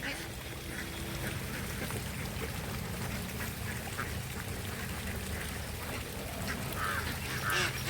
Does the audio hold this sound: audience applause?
no